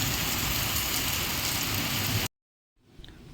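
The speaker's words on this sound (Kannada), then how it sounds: "ಮಳೆ ಬರ್ತಾ ಇದೆ ಸಿಕ್ಕಾಪಟ್ಟೆ." Heavy rain pours in a loud, steady roar for about two seconds, then cuts off abruptly into near silence before a faint rustle returns.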